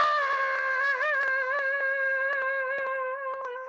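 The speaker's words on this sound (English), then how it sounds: "That is the sound of ultimate suffering." A man screams in ultimate suffering while strapped to a torture machine turned to its highest setting. The cry is loud, close and wavering, sustained for several seconds with no other talk.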